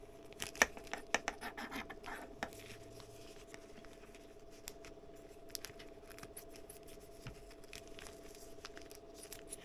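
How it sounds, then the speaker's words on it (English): Scissors snip off a corner while filling paint tubes: a few quick, faint, close cuts near the start, then near-silence with light rustling. "I'm just going to cut off a corner of it like this."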